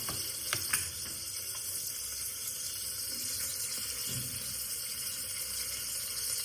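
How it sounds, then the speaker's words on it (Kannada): Mustard seeds sizzle and crackle in hot oil for tempering a dal sambar, a steady bright hiss with a few sharp pops early on. It continues alone, without talking, throughout. "ಸಾಸಿವೆಲ್ಲ ಪಾಡ್ದು"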